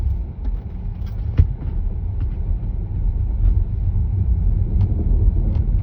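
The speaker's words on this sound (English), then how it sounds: "So the first test is going uphill in the snow, and we'll see how much slippage we get with these Perelli tires" A car on Pirelli Scorpion Mud and Snow tires climbs a snowy hill, its engine a low, steady rumble that builds slightly in loudness over the run, with faint crunches and knocks.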